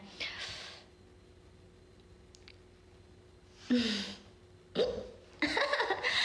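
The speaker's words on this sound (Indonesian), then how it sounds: "Ada cegukan." A woman hiccups in short, sharp bursts during a casual livestream, with quiet pauses between them. The last bursts come in quick succession and are mixed with sighing or a laugh.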